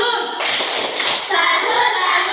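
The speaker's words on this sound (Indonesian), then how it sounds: "Oke, tepuk salut untuk ketua kelas." A primary school class performs a rhythmic clapping chant in a classroom, quick hand claps and taps blending with children's voices, close and lively.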